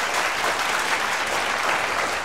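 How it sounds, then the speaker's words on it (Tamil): An audience claps steadily and loudly in a hall during a talk, a dense, continuous wash of many hands with no voices over it. "நீங்கள் கைத்தட்டியது சொக்கலிங்க பேச்சுக்கா உங்களுடைய உடல் நலத்திற்காகவா?"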